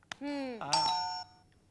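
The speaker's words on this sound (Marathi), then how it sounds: "गुलाब तीनदा बेल वाजवते म्हणून थांबलो होतो." A single doorbell chime rings in a comedy stage play, a bright two-tone electronic ding-dong, close and clear, lasting about a second before fading out.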